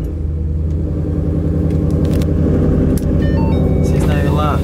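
Ford Mustang with about 70,000 miles idles with a deep, steady, loud rumble right after startup, close by, while a person talks over it.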